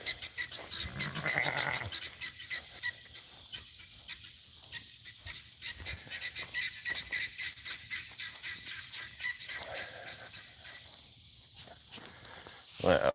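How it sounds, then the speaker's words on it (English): A goat bleats a few times amid footsteps and rustling outdoors, with other farm animal noises faintly in the background. "there's the only goat we've got right now."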